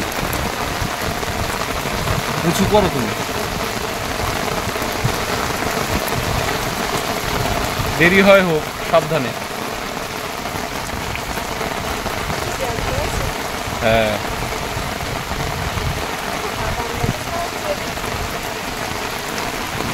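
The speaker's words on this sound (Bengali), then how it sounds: "বৃষ্টি পড়ছে কি পরিমাণ।" Heavy rain pours down steadily on a night-time fishing outing in the Sundarbans, a dense, constant hiss of drops striking surfaces close by. People talk and call out briefly over it now and then.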